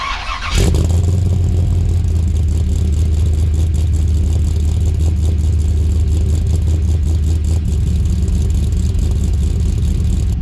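A rebuilt LS1 V8 in a Holden VN Commodore catches after a short starter crank and settles into a loud, steady, close-up running drone with a faint rhythmic lope, with no talking.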